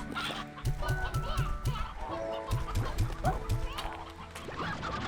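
Hens in Slime Rancher 2 cluck in rapid repeating bursts, close and clear, over a steady game soundscape with chiming tones.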